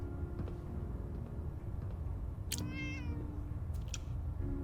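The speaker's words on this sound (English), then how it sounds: "Oh, I heard a kitty." A cat meows once clearly in a video game, a drawn-out rising and falling meow over a constant low game ambience.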